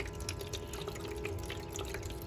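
Water is poured into the reservoir of a Frigidaire countertop ice maker, giving a steady trickle and splash that runs for a couple of seconds at a moderate, close level.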